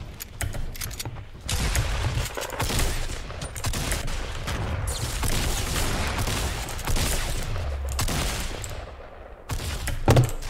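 Rapid bursts of gunfire in Fortnite Battle Royale, some in quick automatic strings, loud and sustained for several seconds with brief pauses between volleys.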